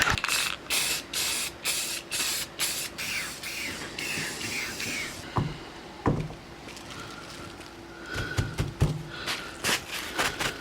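Spray paint hisses in repeated short bursts, close and loud, while the back side of a DL-44 blaster prop is coated, with brief pauses and a few handling knocks between passes.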